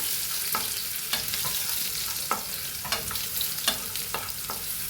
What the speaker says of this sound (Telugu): ఇంకా ఇందులోకి ఎల్లిపాయలు వేస్తున్నాను. ఎల్లిపాయలు కొంచెం వేగాలండి.